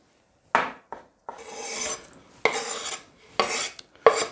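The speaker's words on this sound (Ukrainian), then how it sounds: "Довільною формою подрібнюємо печериць." A knife chops champignon mushrooms on a board in several separate bursts of close, scraping cuts, each stroke rough and rasping, with silence between them and no talking.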